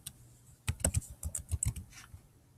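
Quick bursts of keystrokes on a computer keyboard, a brief pause and then a rapid run of clicking taps, close and clear in a quiet room.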